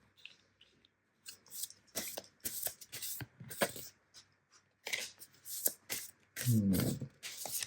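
Fortune-telling cards are shuffled and riffled close up in a series of soft, crisp rustling bursts separated by short gaps, ending in a fuller flurry of card handling.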